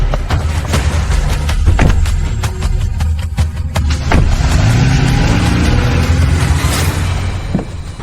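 A car's engine rumbling and revving as it drives off, loud and close, with scattered thumps and a continuous low hum running the whole way through.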